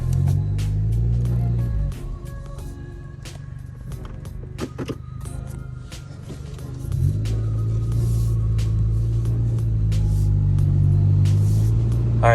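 A 10th-generation Honda Civic drives and makes a U-turn, a low steady engine rumble with road noise, easing off in the middle during the turn and swelling again, with scattered small clicks and knocks inside the cabin.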